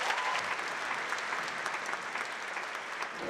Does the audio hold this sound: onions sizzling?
no